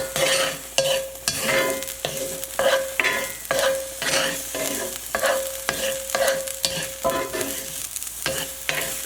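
White portions of green onion frying in oil in a hot pan, a steady sizzle punctuated by regular scraping stirs of a utensil against the pan, close and without talk.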